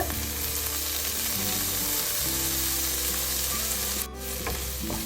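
Okra (ladies finger) being fried in a pan, with steady dense sizzling throughout and occasional stirring scrapes; a brief dip in the sizzle near the end, no talking.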